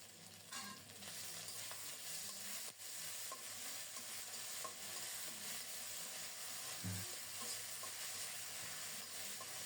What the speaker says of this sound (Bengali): আদা দেওয়ার সাথে সাথে তেল ছিটকে গায়ে পড়ছে